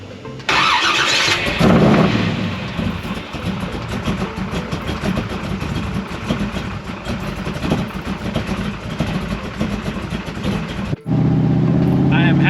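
A Toyota Supra's engine turns over and catches, then runs with a steady rumbling idle for about ten seconds before a brief cut and a louder, smoother hum; close and loud, with a voice faintly mixed in.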